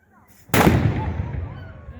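A historical firearm fires a single loud blast at an outdoor knights' show, the sharp crack followed by a long echoing rumble off nearby town buildings that slowly decays.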